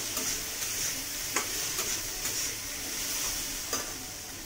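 Potato paratha filling being stirred in a hot pan, a steady sizzle of frying with a few soft scraping clicks of the spoon at irregular intervals, close and alone with no talk.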